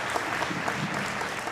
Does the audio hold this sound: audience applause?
yes